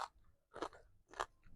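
Field crab, eaten with spicy Luang Prabang papaya salad, is crunched between the teeth in three sharp, crackly bites spaced about half a second apart, close and fairly quiet with soft chewing in between.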